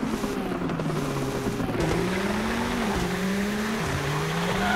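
Diecast Toyota Supra toy cars race down a downhill track, giving a steady close rolling rumble with a rising and falling whine and small rattles as the cars bounce along, with no voices.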